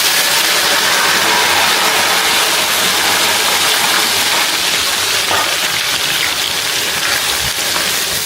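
Garlic cloves sizzle in hot spiced oil for a garlic pickle, a loud, continuous hissing fry that stays dense and steady throughout, with no talk over it.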